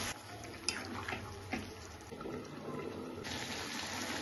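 Water is poured into a pan of jackfruit and prawn curry, giving a soft, steady trickling wash with a few light clinks, heard faintly and close by without speech.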